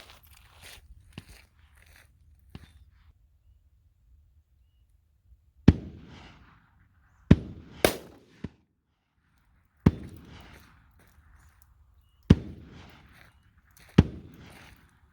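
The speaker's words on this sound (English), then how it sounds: "That first one up will be the 357 mag." Shots from a .357 Magnum firing Hornady Critical Duty rounds into ballistics gel ring out as loud, sharp cracks, about six of them spaced irregularly, with quiet gaps between and faint handling noise at the start.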